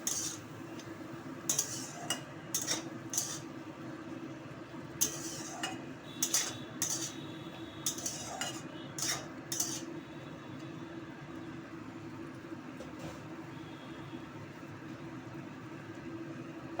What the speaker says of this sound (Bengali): দিয়ে একটু নাড়াচাড়া করে নেব।